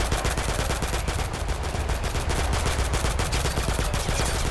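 Heavy weapon gunfire in the video game Total Conflict: Resistance: continuous rapid automatic shots, loud and dense, filling the whole stretch without a break.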